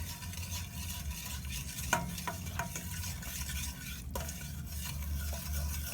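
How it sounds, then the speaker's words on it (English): A wooden spatula scrapes and stirs flour into oil in a cold pan, producing soft, continuous rubbing and swishing with a few sharper knocks against the pan, fairly quiet and close. "with a wooden spatula, I love these are great, mix it into the oil till it gets to the consistency that I want"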